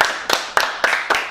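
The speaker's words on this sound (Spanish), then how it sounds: "Aplausos, por favor." Applause from a comedy audience, heard as four short, loud bursts of clapping in quick succession over under a second and a half.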